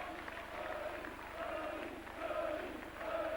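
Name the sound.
rugby crowd applauding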